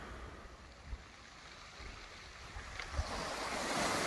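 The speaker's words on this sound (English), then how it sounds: "here we are back on Budliegh Salterton Beach" Waves wash onto the shore at Budleigh Salterton beach, a soft steady surf roar building slightly toward the end, with light wind buffeting the microphone and no voices.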